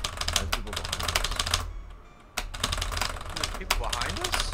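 Rapid clattering typewriter keystrokes, close and busy, pausing briefly midway before resuming, with voices talking over the mechanical tapping.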